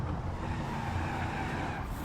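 A car spinning out in a racing video game, with a continuous broadband roar of engine and tire skid that holds steady and loud for the whole moment, with no talking over it.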